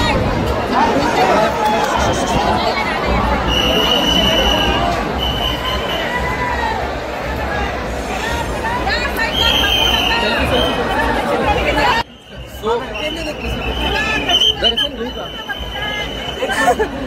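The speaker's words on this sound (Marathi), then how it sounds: "भयंकर गर्दी." Dense festival crowd at Dagdusheth Ganapati in Pune during the 2025 first darshan, a loud continuous babble of many voices with nearby talk, dipping briefly before swelling again.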